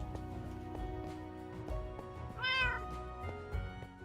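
A cat meows once, a clear mid-length call heard over a low background of music and game sounds.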